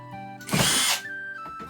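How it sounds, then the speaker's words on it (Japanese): An impact driver gives a short whirring burst as it drives a screw into stacked boards of wood, with quiet before and after. "インパクトのねじ打ちもいまいち下手。"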